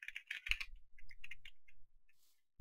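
A computer keyboard is typed on in short bursts of sharp, close key clicks during a Minecraft PvP match, with small pauses between the clusters.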